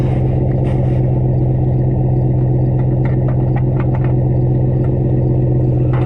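A deep, throaty Dodge Ram pickup truck engine with a Flowmaster 10-style aftermarket muffler rumbles steadily at idle, loud and close, with a constant low drone and faint clatter.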